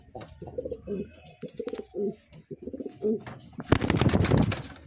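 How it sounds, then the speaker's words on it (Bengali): Chena pigeons coo close by in soft, repeated throaty phrases, followed by a burst of fluttering wings near the end. "এই চেনার পায়রা ছেড়ে দেখাচ্ছি দেখুন কোয়ালিটি চেনার পায়রা"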